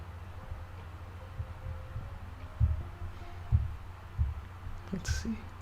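Heartbeat sound effect from a One Piece anime episode: slow, deep, evenly spaced thumps, about four beats, over a quiet hum.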